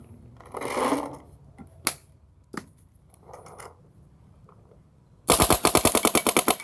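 A Bob Long paintball marker fires a rapid burst of about a dozen evenly spaced sharp pops near the end, after a quieter stretch holding a few isolated clicks and knocks.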